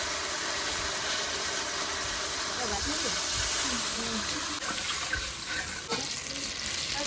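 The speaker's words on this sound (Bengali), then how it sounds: "সর্ষে পোস্ত কষানো হয়ে গেছে, এবার আমি জল দিয়ে দেবো" Water is poured into a hot pan of fried mustard, poppy seed and cumin paste for a hilsa curry. A loud, steady hiss and sizzle runs throughout, with faint watery bubbling underneath.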